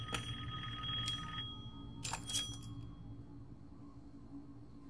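A telephone rings inside the Resident Evil Village video game, sounding as a few faint, short bell-like bursts near the start and again around two seconds over low game ambience, then fading away.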